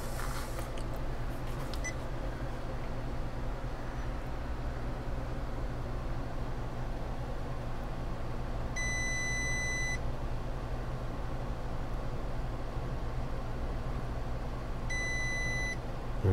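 A multimeter beeps while testing a diode inside a Long Wei PS-3010DF lab power supply under repair. Two short, high beeps sound several seconds apart over a steady low background hum.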